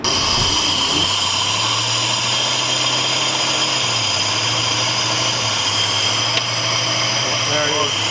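A turbocharged Holden Commodore ute engine running on a dyno with its old injectors refitted: a loud, steady drone close by, with a low hum that dips and rises slightly and a faint high whine above.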